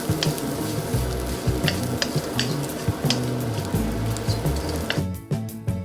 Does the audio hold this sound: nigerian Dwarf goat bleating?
no